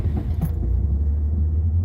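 Turbocharged car engine running with a deep low rumble heard from inside the cabin, steady and fairly loud over a couple of seconds with a brief faint jingle early on.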